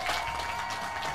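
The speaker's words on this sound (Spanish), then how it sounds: "Aplauso para ustedes mismos." Studio audience applause during a Spanish-language talk show, a steady continuous wash of clapping at moderate loudness with no speech over it.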